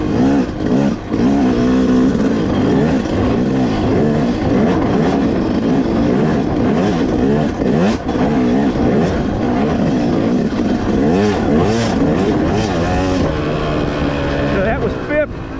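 A 2025 Yamaha YZ250X dirt bike engine on a woodland cycle trail, loud and close, revving and shifting from fifth down to fourth, with pitch rising and falling steadily throughout.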